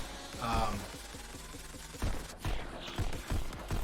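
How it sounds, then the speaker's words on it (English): Gunfire in the Pistol Whip VR rhythm shooting game, a run of quick rhythmic shots over a steady music beat, with a voice talking over part of it. "in this game, you get a higher score if you're able to shoot with the beat"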